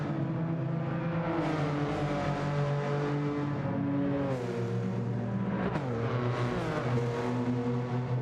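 Racing car engine in Gran Turismo 7 revving loudly and continuously, pitch climbing and dropping through several gear changes with a sharp shift near the end.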